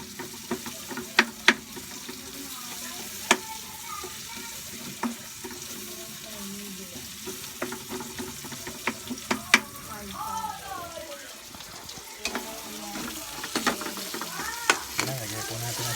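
Onions fry in a pan for Filipino adobong manok with a continuous soft sizzle, punctuated by sharp clinks and scrapes of a utensil stirring against the pan, and brief faint voices in between.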